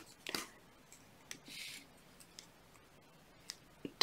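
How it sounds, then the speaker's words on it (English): A few sharp snips of a cutter trimming the leading wire end on a wire-wrapped heart pendant, brief and close against a quiet background. "I'm going to trim this leading fragment now from the bottom."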